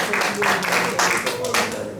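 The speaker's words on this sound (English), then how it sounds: "Let's give him a round of applause." A conference audience gives a brief round of applause for a man buying land in Ghana, scattered clapping in bursts over about two seconds with talking mixed in.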